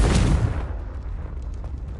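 The Confringo explosion spell in Hogwarts Legacy goes off as one deep, loud blast at the start, then a rumbling tail that fades over the next second or two.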